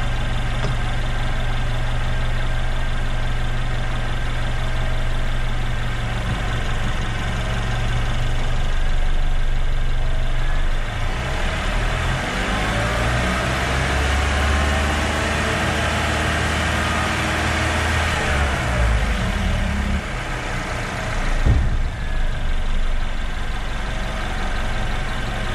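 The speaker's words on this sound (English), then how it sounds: "I would say increase the RPM to 2500" A car engine raised to about 2500 RPM, a steady mid-pitched hum with a faint tonal whine, holding evenly throughout.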